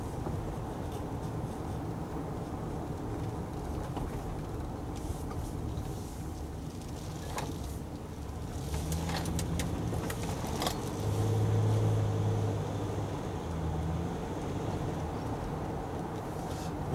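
Car rolling through an Australian suburban residential street lined with houses, steady road and engine rumble throughout with a few brief light rattles, moderately loud and close, no talking.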